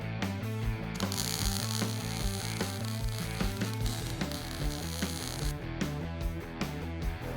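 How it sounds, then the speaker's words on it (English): An improvised arch maker bending tubing to form a radius for custom car tires, with a steady ratcheting, geared mechanical clatter running throughout and no talk. "Here is an improvised arch maker. I need to create a radius around those tires."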